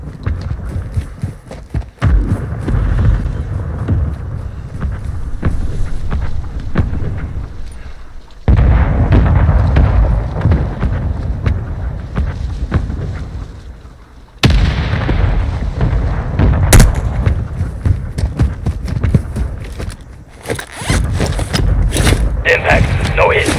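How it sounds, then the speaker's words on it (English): Mortar strikes land in a video game as a series of heavy booming explosions, several sharp blasts spaced across the stretch, each followed by a rumbling tail under continuous background battle noise. "Mortar strike inbound."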